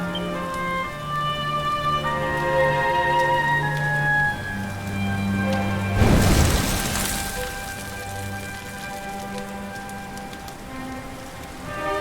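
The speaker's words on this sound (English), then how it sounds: "Looks like the rain's dying down." Steady rain falls in the video game Dragon Quest XI, a constant wash of drops under layered musical tones, with a brief louder surge near the middle.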